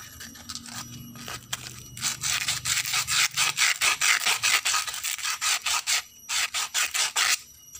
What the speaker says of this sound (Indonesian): Kita bersihkan tadi dengan amplas ya